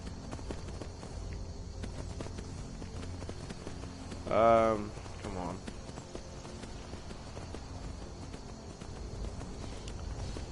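A horse gallops in Skyrim, its hooves beating in a steady rhythm under a constant game ambience, with a brief spoken voice near the middle.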